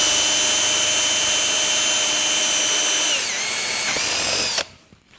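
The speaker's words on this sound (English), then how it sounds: "let's drill the first hole" A power drill whines loudly and close as it bores a tap-size hole into a plastic salad bowl, the pitch dipping twice under load before the motor cuts off abruptly near the end.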